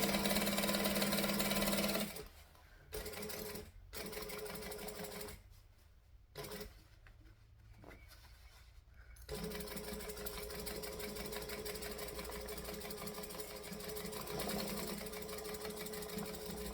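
A sewing machine runs close by, stitching around a bag in bursts of fast rattling, pausing briefly several times before a longer steady run resumes.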